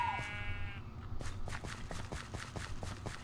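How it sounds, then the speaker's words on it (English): A Minecraft sheep gives one short bleat at the start, followed by a run of rapid, regular footstep taps in the game, close and clear with no talking. "Hello, sheep."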